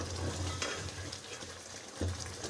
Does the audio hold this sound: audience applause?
no